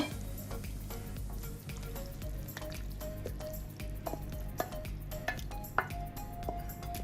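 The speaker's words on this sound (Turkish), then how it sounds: "Ve kavurmaya devam ediyorum." Lentil köfte sauce with tomato paste sautés in a pan with a steady low sizzle, broken by frequent light clinks and scrapes of a utensil against the pan.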